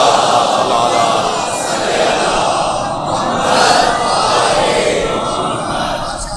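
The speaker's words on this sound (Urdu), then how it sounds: "صلوات پڑھیں ذرا محمد و آل محمد۔" Large crowd at a religious gathering reciting salawat together in unison, a dense sustained wash of many voices with gentle swells, loud and continuous throughout.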